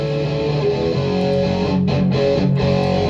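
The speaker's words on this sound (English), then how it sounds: "And the guitar gets its effects removed." Electric guitar played clean with its effects switched off, a dense sustained chordal passage at steady loudness with brief dips where the strings are damped between chords, heard alone.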